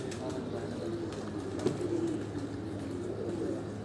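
A flock of pet pigeons coos faintly in short, low calls over a steady background hum, with muffled voices nearby.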